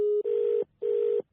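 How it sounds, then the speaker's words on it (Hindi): Two loud, steady telephone dialing tones sound alone, each lasting under half a second with a short gap between, as a number is dialed on a phone. "नंबर मिला रहा है भाई बार बार।"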